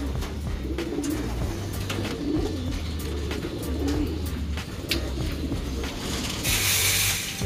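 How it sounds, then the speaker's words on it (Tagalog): Pigeons coo steadily in a low, repeated murmur, with a soft rustle and a brief hiss near the end. "Papakainin na muna ni Kiyo de Pogi yung mga ibon natin dito."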